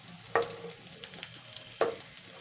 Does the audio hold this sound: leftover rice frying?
yes